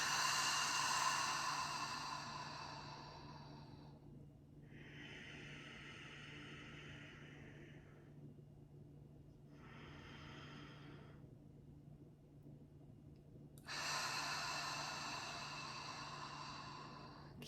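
Deep pranayama breathing repeats in slow cycles: long, airy inhales and exhales drawn through the nose and mouth, several seconds each with quiet gaps between, close and soft against a faint steady hum.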